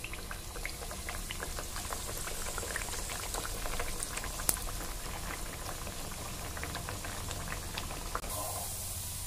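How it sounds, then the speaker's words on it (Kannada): Karida sajjakada holige deep-frying in hot oil, a steady, close bubbling and crackling sizzle that runs evenly throughout with a couple of faint sharp pops. "ನೋಡಿ ಎಣ್ಣೆ ಕಾಯಕ್ಕೆ ಇಟ್ಟೇನಿ, ಡೀಪ್ ಫ್ರೈ ಮಾಡ್ತಾನು, ಕರಿತೇನೆ ನೋಡಿ"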